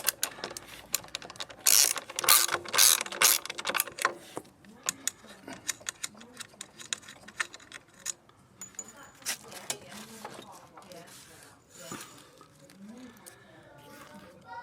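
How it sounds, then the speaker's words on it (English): A ratchet clicks rapidly in bursts as the wheel nuts are loosened on a Lambretta scooter, loud at first and then lighter and sparser, with someone talking intermittently over the mechanical clicking. "Okay, so wheel nuts off now, Benji."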